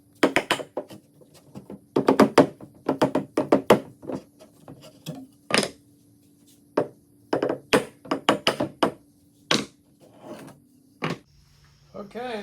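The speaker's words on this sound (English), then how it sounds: "Now I just knock these out." Glued wooden pieces held with hot melt glue get knocked loose in a workshop, making sharp, close hollow knocks in quick clusters and bursts, separated by short pauses and a low steady hum.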